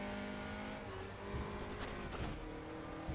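Rear tyres of a race car in the Raceroom racing game lock up and skid on the Bilster Berg circuit, a harsh scrubbing squeal over the loud, steady engine drone throughout.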